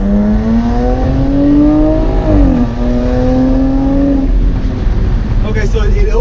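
A 2019 Jaguar F-Type sports car in normal mode revs hard, its engine tone climbing steadily, dipping at a gear shift, then pulling again, loud and close, with someone talking over it.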